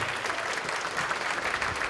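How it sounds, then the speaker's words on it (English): Sustained audience applause rings out at a gathering honouring an Anishinaapekwe trapper, an even wash of many hands clapping at moderate loudness with no talk on top. "Let's give her another round of applause."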